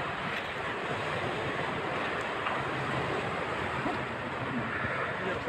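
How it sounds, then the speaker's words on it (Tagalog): Large ocean waves crashing in a continuous roar, with strong wind buffeting the microphone throughout. "Tingnan yung alon na malalaki."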